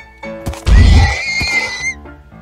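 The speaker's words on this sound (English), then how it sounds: "The giraffes sound like horses." A giraffe in a modded Lord of the Rings video game gives a loud, horse-like whinny, a rising then falling neigh of about two seconds, heard alone and up close.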